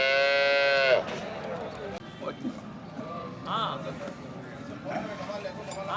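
A Sevalai cow lets out a long, loud moo outdoors, then smaller lowing sounds follow under steady conversation in the background.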